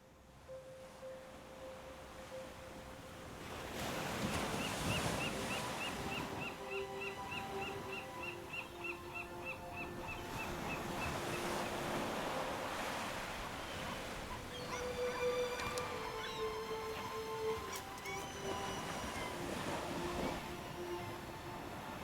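Ocean waves wash onto a winter beach in broad, swelling surges under a low wind, while faint tonal music-like notes drift in the background.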